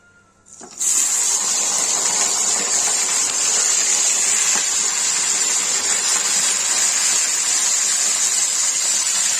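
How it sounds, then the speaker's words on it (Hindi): Eggplant pieces drop into hot oil for a simple eggplant and tomato curry, bursting into a loud, steady, hissing sizzle that starts abruptly and carries on without a break, close up and with no talking. "ये रहा तेल गर्म हो गया है, तो इसमें बैगन डाल देंगे।"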